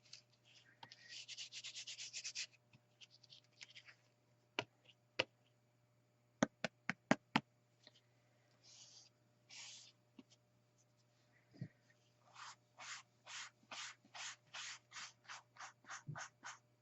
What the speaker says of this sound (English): I'm going to burnish it down with my finger.